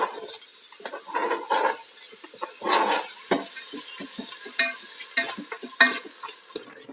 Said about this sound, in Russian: Сейчас я добавлю помидор.